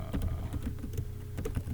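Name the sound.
typing on a computer keyboard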